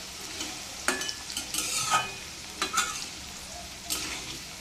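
Potatoes sprinkled with salt fry in a pan while being stirred, a soft continuous sizzle broken by scraping stirs at irregular moments, close and alone without talk.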